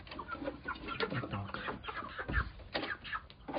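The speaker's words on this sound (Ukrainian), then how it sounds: "Півні також їдять, за ніч зголодніли." Roosters clucking as they feed on a small farm, short irregular clucks and calls scattered close by, with a person talking intermittently over them.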